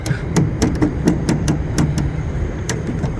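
Sharp percussive knocks and thuds ring out in an irregular rhythm as someone presses the black keys of an abandoned, weathered street piano with petrified keys, its hammers barely meeting the strings, close and fairly loud over outdoor street noise.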